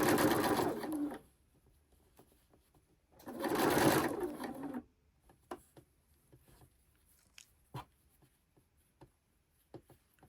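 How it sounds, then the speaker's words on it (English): A sewing machine stitches bias binding onto the inner circle of a Christmas tree skirt in two loud bursts, one near the start and one around the middle, followed by quiet handling clicks and small taps. "I'm going to stitch my bias binding on my inner circle."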